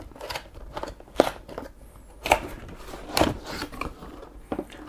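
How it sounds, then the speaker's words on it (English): Keyboard box being opened: a run of sharp cardboard and plastic crackles, rustles and snaps at close range, irregular bursts with quieter handling between, no talking. "So when we open the box"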